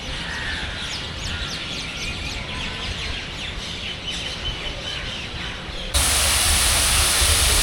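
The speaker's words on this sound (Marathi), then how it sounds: "पक्ष्यांचा खूप सारा आवाज येतो इथे" Many birds call and chirp at once in a dense, continuous chorus, with a steady hiss of background noise throughout, at Saras Baug garden in Pune.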